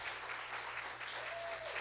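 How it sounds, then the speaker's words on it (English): Quiet hand claps from a small gathering welcome a speaker to a morning devotion, a soft, continuous patter heard faintly over a low electrical hum. "let's give him some a hand clap"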